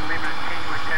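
The left turbine engine of a 1988 light aircraft spools up during its start, giving a steady high whine over a low engine drone, with talk running over it throughout.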